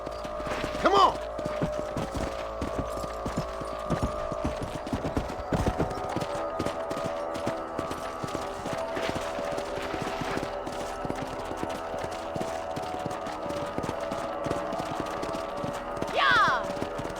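Horses' hooves clip-clop at a steady gallop across open ground in the Western game Red Dead Redemption, with occasional whinnies, distant gunfire and spoken dialogue over the rhythmic hoofbeats.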